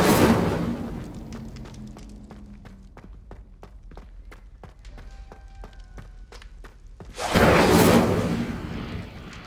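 Incendio fire spell cast in Hogwarts Legacy on PlayStation 5: a strong roaring whoosh opens, fading into scattered clicks and soft thuds, before a second loud fiery burst swells near the end.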